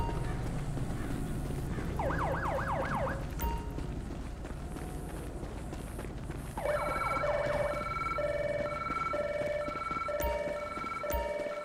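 An ambulance siren in the video game Grand Theft Auto V, responding on Route 68, wails in rising and falling sweeps, then shifts to a steady alternating two-tone pattern. It is loud and continuous over a dense game background rumble.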